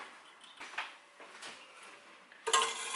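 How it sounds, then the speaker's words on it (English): A utensil stirs sugar and water in a pan on the stove, giving soft, faint scraping and clinking, with a brighter metallic clatter near the end. "you just want to stir it to dissolve the sugar"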